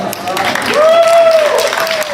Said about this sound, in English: feel free to clap when you hear your name